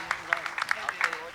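Audience at a Jain religious discourse session with Muni Pramansagar breaks into scattered, uneven claps: a handful of sharp bursts spread over a second, moderately close.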